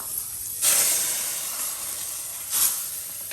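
Spices being tempered in hot oil in a pan for tharavani pulusu give two loud bursts of hissing sizzle, each swelling and then fading, close up with no talk.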